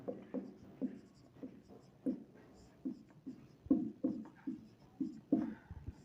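A pen writes on paper while working through a class 10 maths problem on linear equations in two variables, giving soft, close, scratchy strokes in short regular bursts about every half second against near silence.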